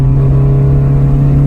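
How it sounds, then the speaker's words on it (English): A JDM Honda Civic EK with a B16A engine idles and revs loudly at close range, a steady droning exhaust note holding a strong, even hum throughout. "Let's see the exhaust sound."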